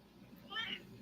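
Indoors, a grey cat lets out one short, wavering meow near the middle, close by but soft, above faint background murmur.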